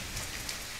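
Steady rain in the survival game The Forest, a constant broadband patter of drops on surfaces with no letup, moderately loud and filling the short stretch alone without any talk.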